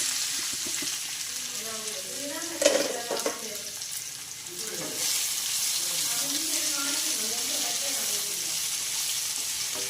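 Cumin and chopped jackfruit fry in ghee with a steady, close sizzle and a few stirring knocks; faint voices murmur in the background.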